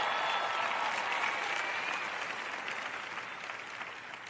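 A large church audience applauds and cheers for God, a dense, steady wash of clapping that starts loud and eases slightly over a few seconds, with no speech over it.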